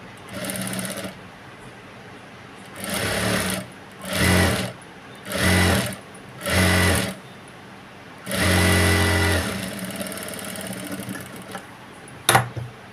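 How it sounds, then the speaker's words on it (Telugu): A sewing machine stitches a blouse waistband in several short, close whirring bursts separated by pauses, one longer run near the end followed by a sharp click. "నడుము పట్టి వచ్చేసి ఇలా స్టిచ్చింగ్ చేసుకోవాలి"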